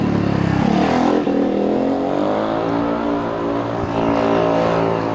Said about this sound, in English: Quite a lot of traffic.